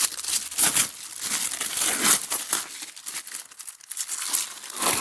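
Plastic vinyl sheeting is peeled off a waterproofing membrane and crumpled by hand during torch-on waterproofing work, a steady close crinkling and tearing rustle with no talk.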